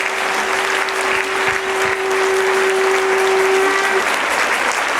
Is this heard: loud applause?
yes